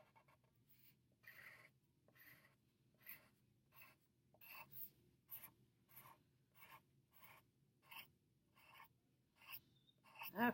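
Pencil drawing lightly on paper: a steady series of short, scratchy strokes, roughly one per second, close and fairly quiet, with no talking.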